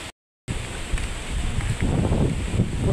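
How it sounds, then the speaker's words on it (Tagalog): Strong wind blowing through jackfruit tree leaves outdoors, a steady loud rushing roar with leaf rustle, broken by a brief dropout near the start. "Kusog ang hangin."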